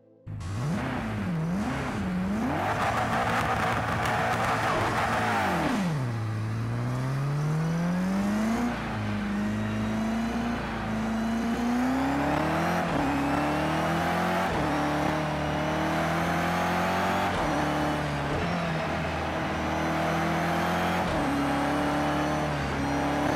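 A BMW M6 GTLM race car in Project CARS 2 roars continuously, its engine revving up and down through gear changes and sustained high-rpm pulls, loud and steady throughout, with no voices.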